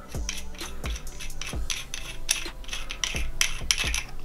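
The threaded base of a custom Anakin Skywalker lightsaber is unscrewed by hand, giving quiet, rhythmic metallic scraping and clicking turns, close and faint, with no talking.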